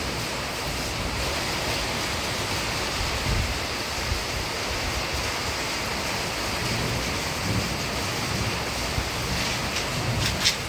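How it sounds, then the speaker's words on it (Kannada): Steady rain falls on foliage, a dense, continuous hiss of drops close by, with no voices. "ಮಳೆ ಹನಿಗಳು ಬೀಳ್ತಾ ಇದೆ ಗಿಡದ ಮೇಲೆ."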